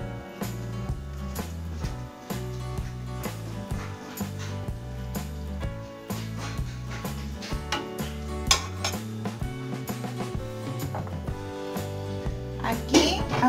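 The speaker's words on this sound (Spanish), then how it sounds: "ahorita ya vamos a servir nuestro arroz con leche. Aquí en este platito." Spoon scraping and clinking against a pot and small plate while rice pudding with coconut is served, light intermittent utensil taps beneath steady background music.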